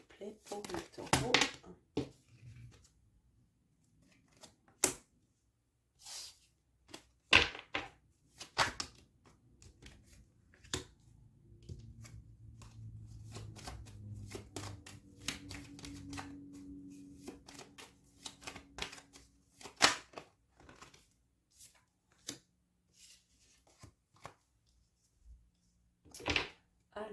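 Tarot cards riffled and shuffled by hand, then laid down, giving a run of crisp papery snaps and flicks with quiet gaps, close by, while someone speaks French softly at times.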